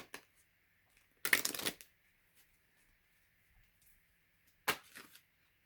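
Oracle cards are shuffled in two quick riffling bursts, one near the start and one near the end, with quiet stretches between and no talking.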